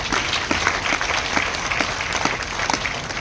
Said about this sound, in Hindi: मैं चाहती हूँ अनुज सर के लिए एक बार जोरदार तालियां बजाएं